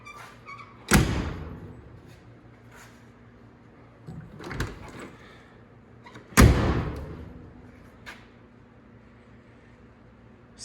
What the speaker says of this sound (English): Listen to how nice this door shuts.